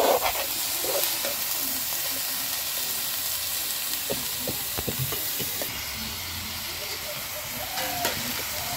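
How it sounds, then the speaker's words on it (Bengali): Vegetables for a vegetarian fried rice fry in a pan with a steady, loud sizzle and hiss throughout, and occasional spatula scrapes and taps near the middle. "এগুলো আমি ভালো করে ভেজে নেব।"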